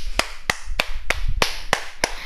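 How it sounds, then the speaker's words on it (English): Seven sharp, evenly spaced claps ring out alone, in a crisp steady rhythm over a low murmur, for Adelaide Crows skipper Rory Sloane in an AFL football setting. "So let's just give a clap to Rory Sloane"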